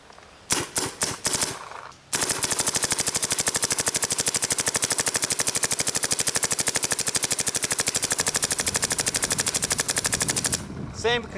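A long rapid string of gunshots fired across an open field at a target roughly 280 yards out, loud and steady, following a few separate shots at the start.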